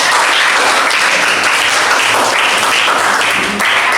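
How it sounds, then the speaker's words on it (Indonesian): Loud, dense applause from a crowd, steady and sustained throughout without a break. "berikan tepuk tangan teman-teman"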